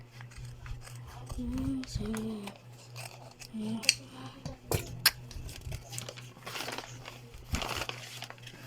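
Scissors snip and cut through paper or packaging close by, a scattered series of crisp snips and crinkles over several seconds, with faint room noise and a few indistinct voice sounds underneath.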